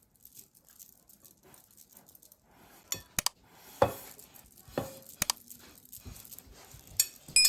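Butter is spread around a baking dish with kitchen utensils: quiet, sparse scraping with a few sharp clinks of metal on the dish, growing busier in the second half. No one speaks.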